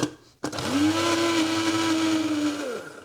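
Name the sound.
blender mixing green oil with frozen grated ginger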